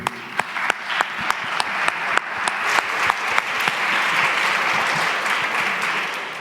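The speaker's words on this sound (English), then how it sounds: "let's give them a big round of applause" An audience at a conference gives a round of applause, starting with a few sharp, distinct claps that build into sustained, even clapping, moderately loud.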